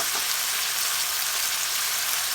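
Roughly cut tomatoes and ginger garlic paste sizzle steadily in a hot frying pan for butter chicken: a dense, even, close hiss of frying with no talk.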